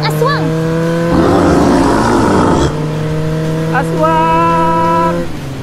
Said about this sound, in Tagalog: Hindi sila tumigil sa pagpapatakbo ng motor